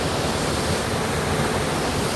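Waterfall at Pedapalli near Paderu pouring steadily, a dense, continuous rushing roar of falling water that fills the whole clip with no talk over it.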